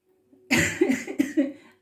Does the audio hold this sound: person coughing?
yes